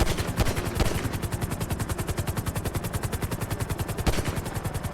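Rapid automatic gunfire in GTA V Online, a long sustained burst of evenly spaced loud shots with a few heavier blasts standing out, no talking.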